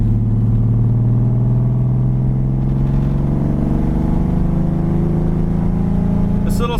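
A 1967 Ford Mustang's six-cylinder engine with headers and dual exhaust, a steady low rumble while driving down the road, droning close and even with slight pitch rises as it pulls.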